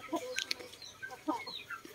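A rooster in a farm pen gives a few short, close clucks and throaty calls, scattered irregularly over a couple of seconds, with no talking.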